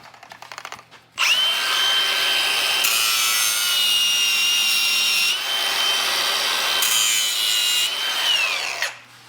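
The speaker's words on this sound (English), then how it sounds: "I've got to cut an 1/8 inch off of this." A power tool cuts steadily into a metal part from an Atlas transfer case, trimming an eighth of an inch off during an off-road 6x6 build. A loud, continuous whine runs for about eight seconds after a brief rattle, with no talk.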